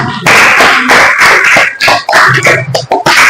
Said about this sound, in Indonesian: Tepuk tangan buat Mbak Eka